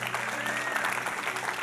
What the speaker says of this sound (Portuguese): Você pode dar um aplauso a esse Deus?